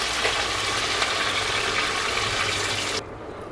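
Water splashes into a hot pan of frying onions and spices for a fish curry, giving a loud, steady sizzling hiss for about three seconds before it drops to a quieter simmer.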